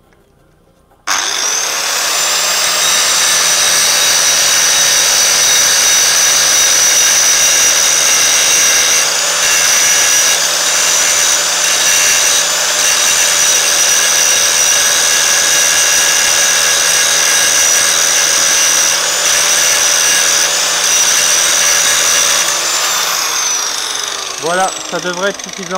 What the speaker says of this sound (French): je suis venu suffisamment meuler mes axes